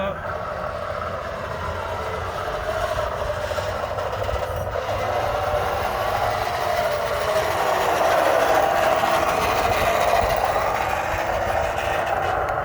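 Small 1/16 scale RC crawler truck with a two-speed gearbox, sound kit and metal drive parts, running steadily in low gear with a continuous whirring drone that holds for the whole stretch, close by.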